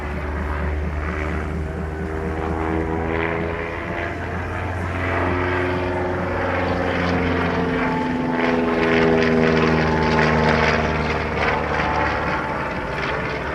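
A propeller aircraft with large flaps and a simple, strong undercarriage flies at an air show, its engine a steady loud drone with a slowly shifting pitch that swells as it passes close, with no talking.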